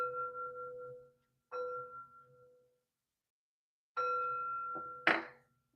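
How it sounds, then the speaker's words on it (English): Three chimes ring out one after another, clear sustained metallic tones that decay slowly, with a soft clunk at the end as the last chime is struck and handled. "Three chimes to bring in positive energy."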